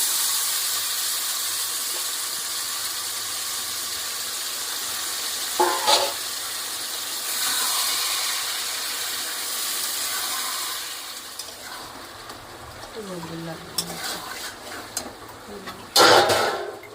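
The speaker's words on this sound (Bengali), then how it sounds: "এবার আমার চিকেনটা মশলা দিয়ে মেখে রেখেছিলাম, এবার আমি এই তেলের উপরে দিয়ে দিলাম" Spiced, marinated chicken pieces hitting hot oil in a pan, giving a steady broadband sizzle and hiss that runs throughout, with a few louder crackles and stirring bumps near the end.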